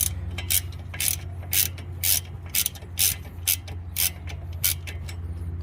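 A ratchet wrench loosens a bolt on a Fiat 500 Abarth brake, giving a quick series of sharp, rhythmic clicks over a low steady background hum, close and fairly clear.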